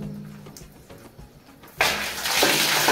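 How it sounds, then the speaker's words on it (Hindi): Water sprays hard from a high-pressure shower in a bathroom with CPVC pipe and water tank plumbing. After a quiet start the spray bursts in suddenly and stays loud, a broad steady hiss that strengthens toward the end. "ये देखिए कितना आगे तक जा रहा है पानी, ये शावर का प्रेशर देखो।"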